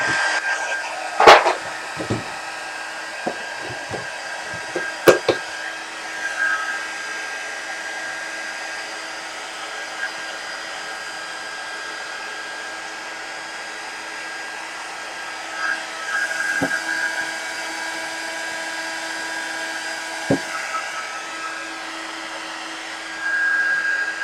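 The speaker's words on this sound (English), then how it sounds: "Let me use a heat gun real quick." A heat gun blows steadily over gel print paint where gold is being worked into turquoise, a continuous airy whir with a few light knocks and clicks near the start.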